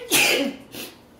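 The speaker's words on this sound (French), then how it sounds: "je commence à éternuer avec ce groupe-là" One sneeze, close and fairly loud: a sharp burst of breath followed by a softer second exhale.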